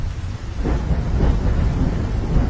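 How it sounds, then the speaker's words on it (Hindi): Heavy rain hisses steadily over a forest while deep thunder rumbles roll through, loud and close, with no voices. "बारिश इतनी तेज थी कि पूरे जंगल में बारिश का पानी बहने लगा।"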